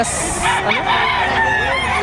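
Chickens and a rooster at a livestock auction market in Padre Garcia, Batangas, crowing and clucking up close, with a sustained crow rising over a steady background of market noise.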